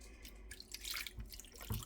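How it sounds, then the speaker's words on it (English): Water is poured over barbecue-sauced chicken in a crock pot, a close, soft, trickling splash that runs for under two seconds. "Now I'm going to add a little bit of water"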